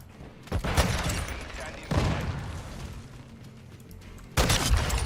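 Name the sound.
shotgun firing in a video game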